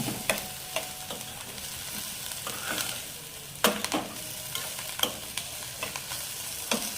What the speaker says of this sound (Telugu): దీని మీద పెట్టుకొని ఫ్రై చేసుకోవాలి